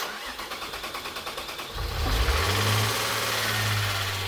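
A car engine cranks with a rhythmic whirring starter, then catches and roars to life, settling into a loud, steady idle close by.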